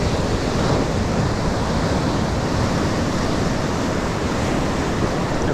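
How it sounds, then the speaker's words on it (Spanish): Rough sea waves surge and break steadily around a fishing boat, a constant loud wash of surf with wind buffeting the microphone, no voices heard. "Ahora se está agitando un poco la mar."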